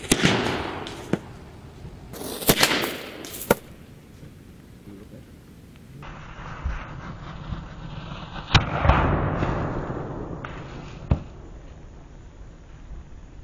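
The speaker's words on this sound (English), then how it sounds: "We're gonna load this up with a little bit more powder and see if we can make it go boom." A homemade wooden log cannon fired with black powder, several sharp cracks and booms scattered over the stretch amid rumbling outdoor noise, one heavier blast near the middle trailing off.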